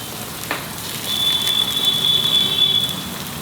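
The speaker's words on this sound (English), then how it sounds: "I have to fry this masala" Masala for chicken roce curry fries in a pan with a steady, close crackling sizzle that grows louder after an early tap, joined by a thin high hiss, and no voices.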